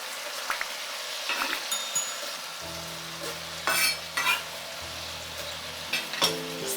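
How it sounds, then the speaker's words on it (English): Beef and big chunky onions fry in a pan for chow mein as they are stirred, giving a constant sizzle with sharp clinks and scrapes from the utensil and a low steady hum underneath. "separate the onions and stir"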